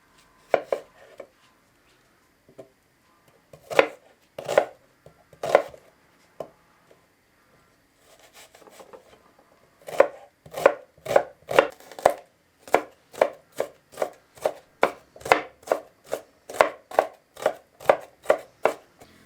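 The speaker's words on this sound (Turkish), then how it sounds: "Fasulyelerden sonra bir tane soğan doğruyorum." Knife chops through an onion onto a board, sparse at first, then a fast, steady run of crisp close cuts.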